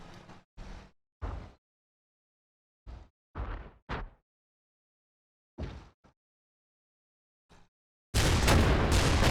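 Gunfire in the tactical war game Combat Mission: Red Thunder: several short, sharp bursts separated by silences, then a loud, dense sustained barrage at the end.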